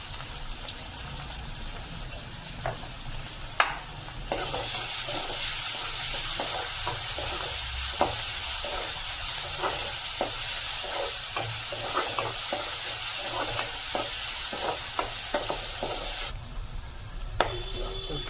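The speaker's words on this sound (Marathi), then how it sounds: "कांदा टमाटर आपला भाजून झालाय." Onion and tomato sizzle steadily as they fry in a pan for a homemade spicy mutton gravy, a close, continuous hiss broken by frequent spoon scrapes and stirring clicks, with no talk.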